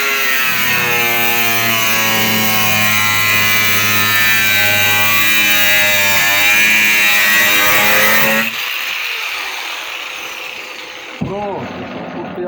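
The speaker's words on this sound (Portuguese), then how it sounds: "eu vou cortar aqui essa chapa no meio" A power tool cuts a thin metal sheet in half with a loud, steady buzzing whine that holds for about eight seconds and then cuts out, leaving a brief clatter and quieter noise.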